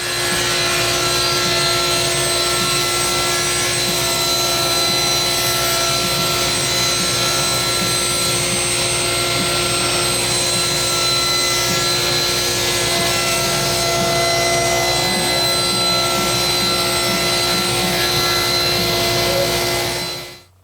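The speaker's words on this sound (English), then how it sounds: "take this over to the table saw, and we're going to have to cut some strips that are 1 1/8 of an inch wide" Table saw ripping wood strips 1 1/8 inch wide: a constant high whine and roar of the spinning blade with rough rubbing under it, loud and unbroken for about twenty seconds before cutting off at the end, no talk.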